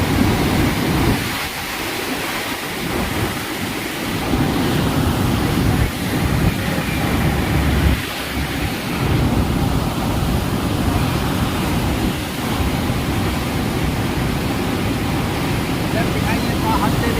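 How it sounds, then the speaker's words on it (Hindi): Loud, steady roar of rushing river water pouring through the Kosi barrage in heavy flow, a broad continuous wash that fills the whole clip with no pauses. "पानी का प्रेशर इस कदर तेज है"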